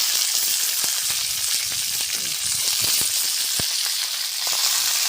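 Malabar spinach stems and a few potatoes fry in a pan over a village clay stove, giving a loud, steady, close sizzle with occasional sharp crackles and no speech.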